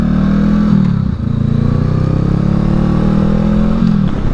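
A motorcycle pulls through a right turn in first gear, its engine droning loud and close with a steady low throb that briefly dips and picks up again as it accelerates.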